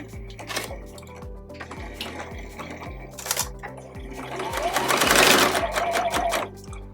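Sewing machine stitching a seam around a patchwork zipper pouch with back stitches, its motor running in a steady mechanical chatter of needle strokes that briefly speeds up and grows louder near the end.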